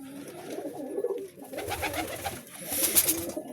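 Pigeons coo close by in soft, repeated throaty murmurs, with a rustle of wings and a few higher chirps toward the end.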